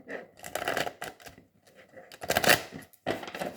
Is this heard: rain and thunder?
no